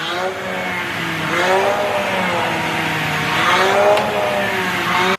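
A Shark vacuum cleaner runs steadily with a continuous loud motor whine and shifting harmonic tones, sounding much like a revving engine, for about five seconds before cutting off abruptly.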